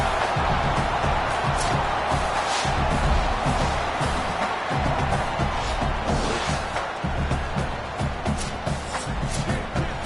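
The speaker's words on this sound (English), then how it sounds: "Listen to this crowd just shaking the girders of this place, trying to help their defense." A large college football stadium crowd roars in a loud, continuous wall of noise during an LSU vs Texas game, swelling and holding steady throughout.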